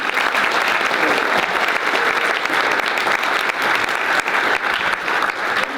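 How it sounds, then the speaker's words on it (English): Loud, dense audience applause at a state-final quick pitch competition, a large crowd clapping continuously and evenly throughout without any speech on top. "Let's give a big round of applause to all of you."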